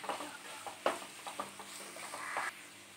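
Sliced onions for a Kerala chicken curry scraped and stirred in a pan, quiet irregular scuffs and soft sizzling with a few sharper utensil knocks, no voices.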